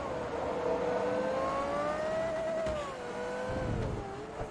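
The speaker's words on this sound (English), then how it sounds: "Got a little bit of other engine noise mixed in with that as well" A car engine from the racing game Forza Motorsport 3 drones with a steady, slowly shifting pitch. The tone dips and rises gently, and other engine noise mixes in at a moderate level. Nobody speaks.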